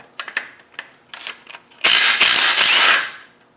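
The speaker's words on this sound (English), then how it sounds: "This has got some 17mm nuts and studs in there where it should be just bolts, but we'll just take them out." A ratchet wrench removes 17mm nuts from studs under a car during a TDI engine removal, first a few short clicking bursts, then a loud sustained ratcheting spin, close by with no talk.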